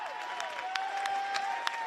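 A crowd at a high school wrestling match, Milford Scarlet Hawks against the Taunton Tigers, claps in a steady, dense wash of applause with some whoops, heard from within the gym for a couple of seconds.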